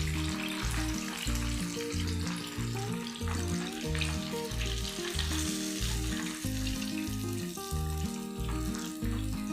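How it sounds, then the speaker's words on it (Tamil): KFC-style chicken deep-frying in hot oil, a steady loud sizzle and crackle that fills the whole stretch with no talking, bubbling continuously without a break. "இதே மாதிரி நான் எல்லா சிக்கனையும் ஃப்ரை பண்ணிக்குவேன்."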